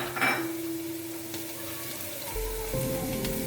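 Vegetables sauté in a pan for chicken shashlik, giving a soft steady sizzle with a few light clinks of the pan and utensil, and no talking.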